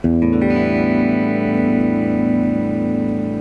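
An electric guitar chord rings out through a Fender FM 25R amplifier with a washy spring reverb tail, loud and sustained, slowly fading.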